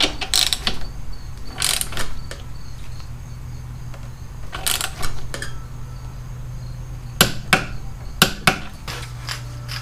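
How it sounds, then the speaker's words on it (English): A torque wrench clicks and ratchets in short bursts while tightening the front wheel of a 1984 Honda Shadow 500 motorcycle, with sharp metallic clacks and a quiet background hum between. "Torquing the front wheel to 45 foot-pounds."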